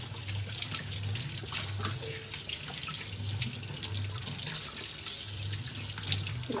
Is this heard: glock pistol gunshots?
no